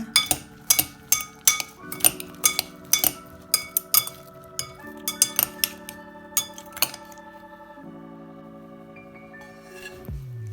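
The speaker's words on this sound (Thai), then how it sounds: "คลุกเคล้าให้ส่วนผสมเข้ากันนะคะ" Ingredients for a ripe mango and shrimp salad are tossed in a bowl, sending a run of bright ringing clinks, fast and rhythmic at first, then slowing and fading into a sustained hum.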